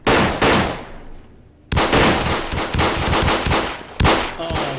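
Close, loud bursts of automatic gunfire in Arma 3, rapid shots fired in several volleys with brief pauses between them, dense and continuous through most of the stretch.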